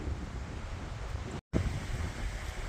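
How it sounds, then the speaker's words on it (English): Wind blowing steadily across an open golf course on a blustery day, a constant rumbling rush buffeting the microphone, with one very brief dropout midway through. "I'm realizing it's a much more windy day than I had anticipated."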